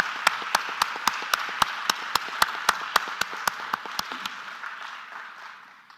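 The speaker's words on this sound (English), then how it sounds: "can we give the recipients of awards today and the entire department a huge round of applause?" A small audience at a police awards meeting gives a round of applause in sharp, evenly spaced claps that slow and fade toward the end.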